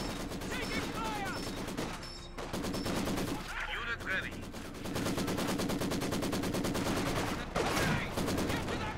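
Rapid, sustained machine gun fire from MG positions in a World War battle video game, dense rhythmic bursts of shots with only brief pauses, accompanied by occasional explosions and battle noise, loud and continuous.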